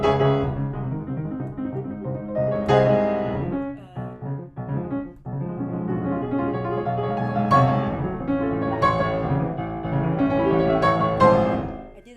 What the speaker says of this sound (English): the third movement of Moonlight Sonata, everybody knows it too, I think